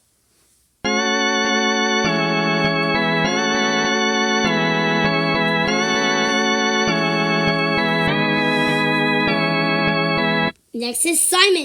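Mr. Tree, a Sprunki character in a video game, gives off a sustained, harmonically rich melodic tone that shifts pitch in steps for about ten seconds, loud and continuous, then a voice briefly speaks.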